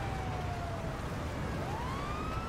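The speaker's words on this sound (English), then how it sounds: "And I know my sirens are still on." A wailing police car siren in the game GTA V with the LSPDFR mod rises and falls over steady traffic-like background noise during a pursuit, continuous and moderately loud, with no talking.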